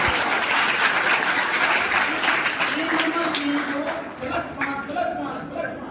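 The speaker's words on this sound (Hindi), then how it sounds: "तालियां बजाओ।" Audience applause at a school quiz competition, a dense burst of many hands clapping that gradually thins out, with voices talking over it near the end.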